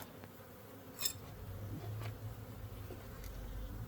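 Honeybees buzz around a hive in a backyard apiary, a soft, steady, close drone with a few brief louder passes as single bees fly near.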